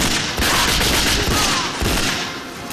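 Sustained automatic gunfire from the spy shooter game 007 NightFire, a dense, loud stream of rapid shots filling the whole stretch with no pauses and no voices.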